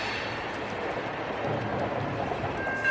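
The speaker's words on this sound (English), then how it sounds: "you can see the tops of auto racks coming around the corner on the Dalton siding, which turned out to be NS 188" Norfolk Southern freight train NS 188, hauling auto racks, rumbles steadily on the Dalton siding, a continuous rolling noise heard at moderate distance.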